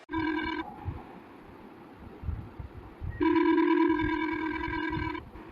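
A telephone rings unanswered in two long bursts of electronic tone separated by a pause of about two and a half seconds, clear and close with no one speaking.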